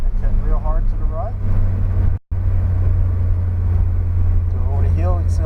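A Porsche's engine drones loudly and steadily as the car accelerates around a race track. The sound cuts out briefly midway, and a voice talks over much of it.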